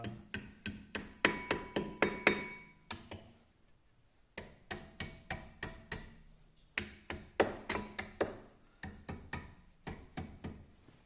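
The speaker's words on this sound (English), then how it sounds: "we can just tap these in a bit better with a mallet" Brake pads on an Audi A4 front disc brake being knocked into place with a mallet: crisp, sharp taps in quick bursts of six to eight blows, separated by brief pauses, close and fairly loud.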